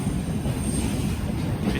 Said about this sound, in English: The train is so long.